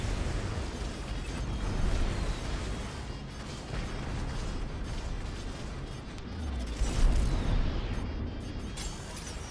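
Repeated torpedo blasts and heavy explosions from a space battle in the Strike Suit Zero game, a continuous loud rumbling barrage of booms with a stronger burst near the end, without speech.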